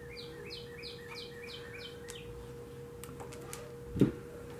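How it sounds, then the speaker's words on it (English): A small bird chirps outside an open window in a quiet room, a quick series of high repeated tweets, soft and somewhat distant over a steady low hum, followed by a brief close knock. "I have my window open, so if you hear a little bird chirping, that's what it is."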